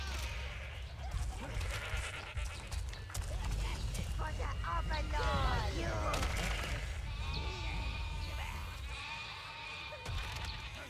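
Sheep bleat repeatedly in the Overlord video game, wavering calls layered over a dense, busy game soundscape of clatter and background ambience, with a voice talking at times.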